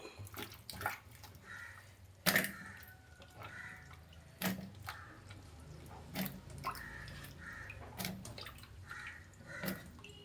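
Chopped breadfruit washed in water, with splashing, sloshing and occasional sharp drips and knocks against a vessel, fairly quiet and close, repeating irregularly throughout.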